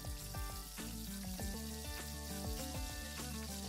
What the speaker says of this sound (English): Dip the chops one by one in the batter and drop into the oil.